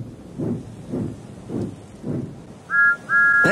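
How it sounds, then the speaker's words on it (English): A steam-style train whistle sounds twice near the end, two short steady two-tone blasts following a series of soft rhythmic low chuffs, moderately loud and clear with no talking. "Then he heard a whistle."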